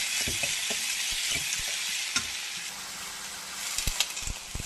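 Chopped onions sizzle steadily in hot oil for a Tamil brinjal kara kuzhambu, a bright continuous frying hiss broken by scattered soft taps and scrapes of a stirring spoon, close and without speech.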